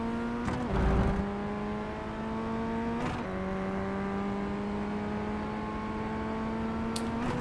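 A Formula Ford FF1600 race car at Jerez in iRacing, engine droning and climbing in pitch through the gears with two quick upshifts, steady and close under full throttle, no talk.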